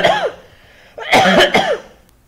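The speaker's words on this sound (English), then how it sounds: "I had to pause it because I was coughing" A short cough, a pause, then a burst of several harsh coughs close to the microphone.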